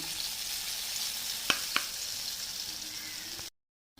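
Gram flour batter drops into hot oil for boondi, giving a steady, close frying sizzle with a couple of sharp ladle clicks, then silence near the end.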